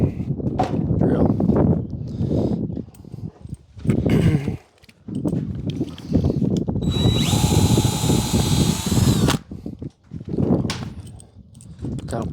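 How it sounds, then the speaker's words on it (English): A power drill whirs in a few loud, sustained runs during a compact window unit install, with a high-pitched whine near the end, mixed with thumps and handling noise while people talk nearby. "Drill."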